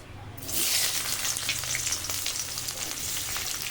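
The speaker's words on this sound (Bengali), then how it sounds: "এই মাছ ভাজার তেলের ওপরে দিয়ে দিচ্ছি পেঁয়াজ" Onion drops into hot oil left over from frying fish and sets off a loud, steady sizzle that continues evenly to the end, close to the pan.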